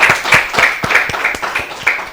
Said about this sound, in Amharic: አጨብጭቡላቸው እስቲ፣ አጨብጭቡላቸው